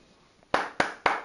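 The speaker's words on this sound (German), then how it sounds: "Applaus, Applaus." Three sharp hand claps in quick, even succession from the video game Hogwarts Legacy, close and fairly soft, with no voices over them.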